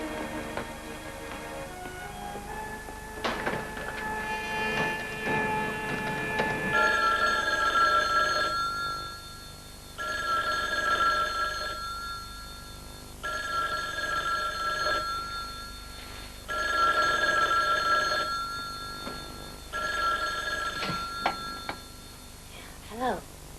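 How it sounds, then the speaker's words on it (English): An old telephone bell rings in repeated bursts with short silent gaps between them, loud and near, after a stretch of mixed sounds at the start. "I had to get up to answer the phone anyway"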